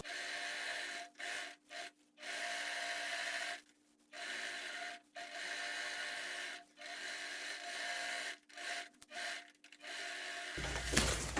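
Sewing machine stitching right along the fabric edge of a large insulated vanity case, a steady mechanical whir in repeated runs broken by brief pauses, close and moderately loud.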